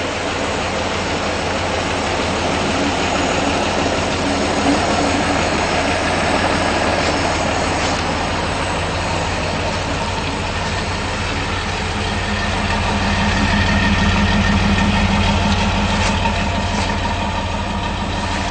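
A restored 1978 Toyota FJ40 Land Cruiser engine idles quietly and steadily, a smooth low rumble that holds constant for the whole stretch, with a slight swell in loudness near the end and no talking.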